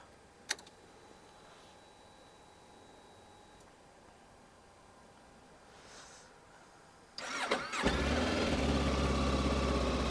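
A Voge DS525X motorcycle starts after a quiet pause with a few faint clicks, then its engine catches and settles into a steady, loud, close idle for the last couple of seconds.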